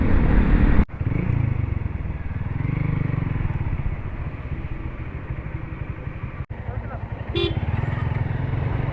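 A motorcycle engine runs steadily and close by for most of the ride toward a petrol pump. Two sharp breaks cut through it, and a brief horn-like tone sounds near the end, with traffic noise in the background.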